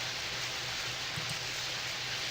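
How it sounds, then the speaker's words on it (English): A shower runs in the adventure video game Ben Jordan 2, a steady hiss of spraying water at even level throughout, with no voices over it. "But first you must sing in the shower."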